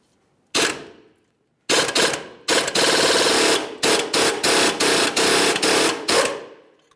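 A power tool removes a 21mm ball joint nut on a 2005-2010 Dodge Dakota upper control arm: a short loud impact burst, a pause, then several rapid rattling hammering bursts separated by brief gaps, close and harsh.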